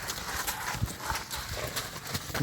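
Horse hooves clip-clop at a moderate pace over a noisy outdoor background, fairly close and moderately loud.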